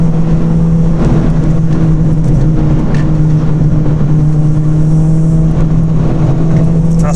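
A modified Ford Fiesta ST Mk6 drives through a series of turns, the engine holding a loud steady hum close in the cabin, with road and tyre noise rising and falling through the bends.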